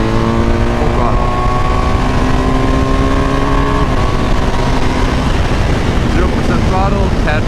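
A motorcycle engine revs hard at full throttle while trail braking, its pitch climbing in steady rising sweeps, with wind buffeting throughout.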